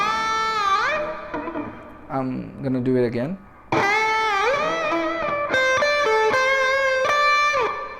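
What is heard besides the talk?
electric guitar pentatonic lick played slow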